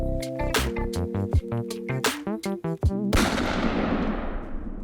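Gunshot sound effects crack out over bright musical tones, several sharp shots followed by a heavier burst whose noisy tail fades away; no talking.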